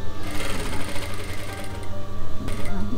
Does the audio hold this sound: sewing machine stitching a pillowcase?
yes